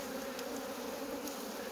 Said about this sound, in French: Vous voyez là, sur la petite branche, là, il y a une petite grappe d'abeilles.